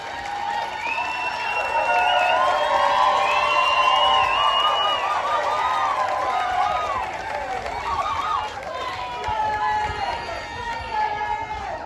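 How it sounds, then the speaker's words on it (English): A town hall crowd in Richardson, Texas, claps and cheers in a sustained wave, with whoops and shouts ringing out over dense applause for several seconds before it gradually thins. "the biggest applause that I get consistently anywhere I am in Dallas is simply by saying Clay Jenkins"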